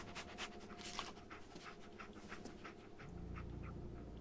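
Dogmeat, the canine companion in the Fallout PC game, pants in quick rhythmic breaths, with dense game ambience and a low rumble that swells toward the end.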